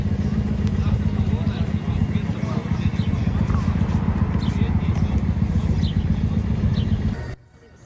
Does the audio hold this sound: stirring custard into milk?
no